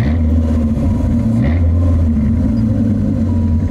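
A Dodge Viper RT/10 with its 8-litre V10 rumbles loud and close, a low steady engine note that rises briefly in a short rev midway before settling back.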